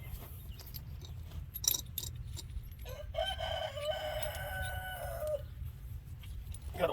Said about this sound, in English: Good old chickens.